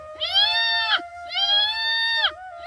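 A man mimics a goat with two long, loud, quavering bleats, each ending in a sharp drop, delivered close up with a short pause between them and a low hum underneath.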